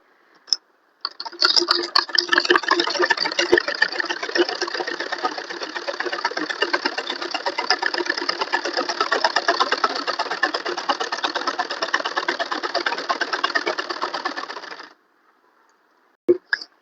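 A sewing machine runs steadily for about fourteen seconds, stitching the hem of a four-panel salwar. The whirring is dense and close, and it stops abruptly with brief clicks at either end.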